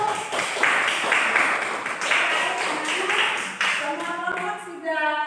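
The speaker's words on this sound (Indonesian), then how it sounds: "tepuk tangan dulu." Students clap in a classroom after a group presentation, with a broadband clatter running steadily throughout and a voice speaking over it near the end.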